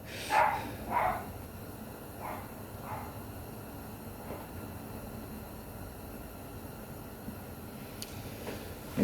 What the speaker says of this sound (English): The mail lady came. Here comes the dogs.